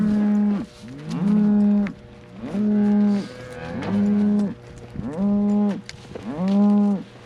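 A newborn calf and other cattle on a farm call out in close, loud moos. About six long, drawn-out calls come in a slow, regular rhythm, with brief quiet gaps between them.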